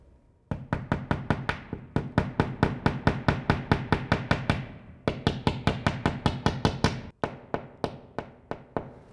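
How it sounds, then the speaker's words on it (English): A hammer drives a nail into a wall in a rapid, steady series of sharp metallic knocks, close by, with one brief pause before the blows continue. "just grab hammer and nail like we did for the banner, and then in it goes"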